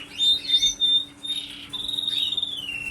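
A pet bird chirps and whistles nearby in short clear tweets and a longer warbling run, fairly loud, over a faint steady hum, with no talking.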